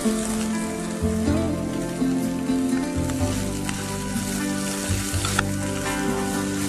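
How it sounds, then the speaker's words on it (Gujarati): Capsicum roasting in a hot pan, a continuous close sizzle and crackle with occasional stirring scrapes, and no voices over it. "આ કેપ્સિકમ શેકાઈ ગયા છે."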